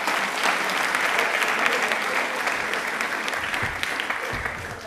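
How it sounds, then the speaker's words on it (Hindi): Studio quiz-show audience for a program on Indian Railways breaking into loud, sustained applause, dense clapping that holds steady for several seconds before easing slightly at the end. "प्लीज अपने लिए जोरदार तालियां हो जाएं एक बार"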